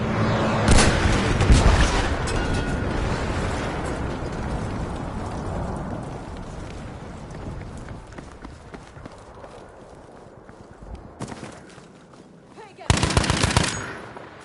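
A machine gun fires in Battlefield V, a long continuous rattling burst that slowly fades as the clip goes on, and then a second short, loud burst comes near the end.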